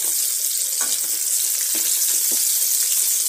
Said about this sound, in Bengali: মাছটা ভাজা হয়ে গেছে, তাই একটা সাইড হয়ে গেছে, পুরোটাই হয়ে গেছে মাছটা ভাজা।